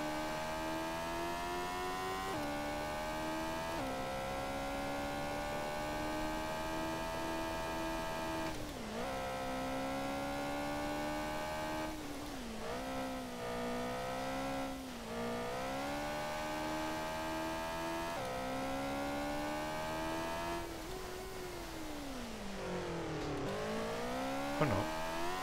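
A rally car engine in Rally Championship 2000 drones steadily and revs up through repeated gear changes, pitch rising and then dropping, loud and continuous for the whole stretch.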